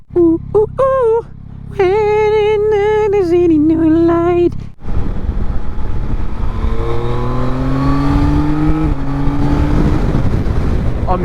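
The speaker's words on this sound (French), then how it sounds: "j'ai accéléré à peine, j'étais déjà à une vitesse assez haute" A 2026 Yamaha Tracer 9 Y-AMT motorcycle engine revs in short bursts, then accelerates hard with its tone climbing under a loud rush of wind.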